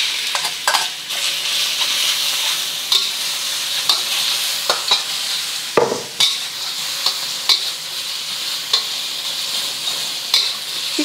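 Shrimp frying in hot oil for Malaysian-style fried rice, a loud continuous sizzle with regular scraping and clacking of a utensil stirring the pan.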